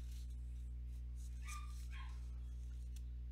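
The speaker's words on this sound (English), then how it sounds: "I'm talking about your dog. We hear it barking." A dog barks faintly in the background during an online trivia game, two or three short, distant barks around the middle over a steady electrical hum, with no one talking.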